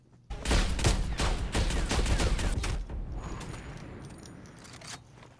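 Rapid gunfire from Call of Duty: Black Ops Cold War on the Nuketown map, a dense burst of overlapping shots that starts abruptly, stays loud for a few seconds, then thins into scattered cracks and mechanical clatter.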